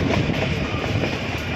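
Nilgiri toy train carriage rolling between Ooty and Coonoor, a steady broadband rumble of wheels and rail noise heard up close from on board, continuous and fairly loud with no speech.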